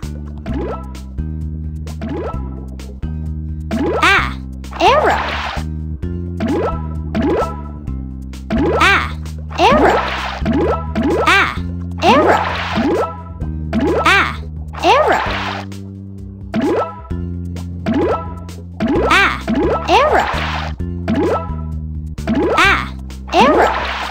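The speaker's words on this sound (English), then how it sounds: "pop all the bubbles" Repeated bubbly plopping pops from a Paw Patrol alphabet learning game in a steady rhythm, many in quick succession, with a low tonal backing underneath; bright, close and cartoonish.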